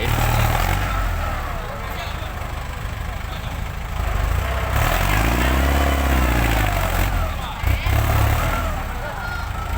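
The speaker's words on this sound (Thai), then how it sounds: "เดี๋ยวให้รถไถเคลียร์พื้นที่ก่อน" A tractor engine rumbles steadily nearby, its low drone continuous, while a person talks over it.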